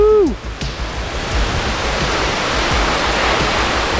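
A waterfall near Valdez, Alaska roars as a steady, loud broadband rush, continuous and close, after a brief whoop of a voice at the very start.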